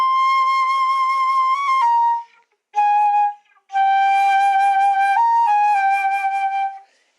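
Solo flute plays a slow, singing Andante Cantabile in A, sustained tones in a few phrases separated by short pauses, with a quick pair of grace notes, close and clear with no talking.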